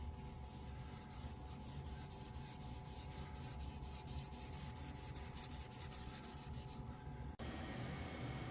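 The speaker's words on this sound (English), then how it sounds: "So I'm just going to go and do a little bit of sanding on it" Steady hand sanding on wood, a soft continuous rubbing scrape repeating in short strokes, quiet and close, with no talking.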